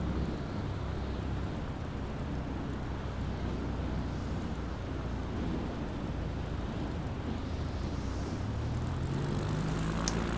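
A CubCrafters XCub float plane taxis in a flight simulator game near Nanaimo, with a steady loud propeller drone and engine roar, rising in pitch near the end.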